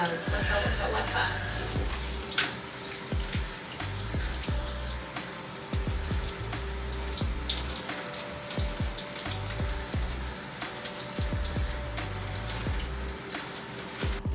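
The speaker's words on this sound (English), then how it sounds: "adding the water is such a necessary step" Tap water running steadily into a container while hair products are mixed for an aloe butter gel hair routine, a continuous close splashing with small drip-like ticks throughout, alone with no talk.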